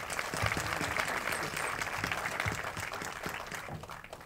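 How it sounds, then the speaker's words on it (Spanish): Sustained applause from an audience at the closing ceremony of a teachers' training and professionalization meeting, dense steady clapping filling the whole stretch with a few louder claps standing out. "Un aplauso, por favor"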